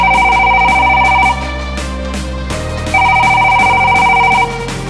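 An old-style telephone rings in two long electronic bursts separated by a pause, loud and clear over a low musical backing.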